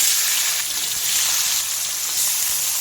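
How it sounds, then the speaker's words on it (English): Prawns searing in a hot wok with garlic, cooked for Nyonya asam prawns, give a steady, dense sizzle that holds close and loud for the whole stretch with no talking. "you will have to leave your prawn to sear on each side for about 1 to 2 minutes until they are slightly charred"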